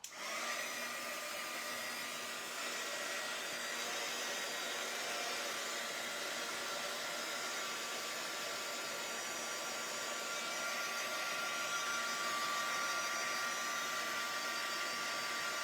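A heat tool or dryer blows continuously while drying paint on an art journal page with a gel plate background, a steady close whooshing roar running unbroken throughout.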